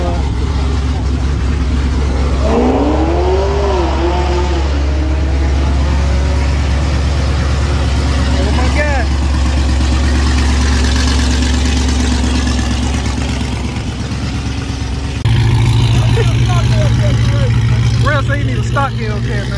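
Engines at Texas Motorplex drag strip where a Chevrolet Corvette C8 races a modded Dodge Hellcat, a loud steady idling drone with a rising whine partway through, plus overlapping talk and shouting.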